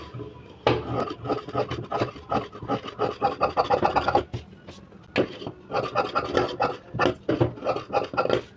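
Scissors cut through paper canvas for a blouse neck facing, a close, rhythmic run of rasping snips and rustles with a short pause before the cutting resumes.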